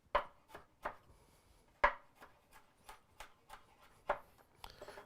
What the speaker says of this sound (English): What I like to do sometimes is just chop this up to kind of give it a head start.